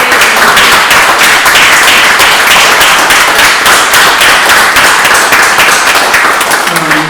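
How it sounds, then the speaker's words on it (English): Loud, sustained applause from an audience at a summit's closing session fills the whole stretch, dense and steady throughout. "deserves a massive applause"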